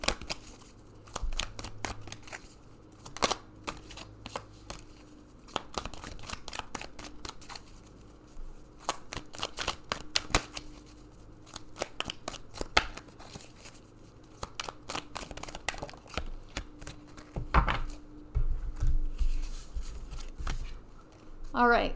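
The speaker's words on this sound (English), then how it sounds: "Let's pull some more cards." Oracle cards being shuffled by hand, a steady run of soft crisp riffling and flicking snaps that lasts throughout, close to the microphone, with a voice talking quietly over parts of it.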